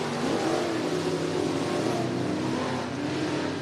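Dirt track race cars roar around the oval at Cottage Grove Speedway in Cottage Grove, Oregon, a loud, continuous blend of engines holding steady throughout.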